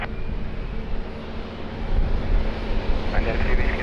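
An airliner's engines roar steadily at Lisbon Airport during takeoff, a broad distant rumble that swells slightly louder toward the end, with radio voices over it.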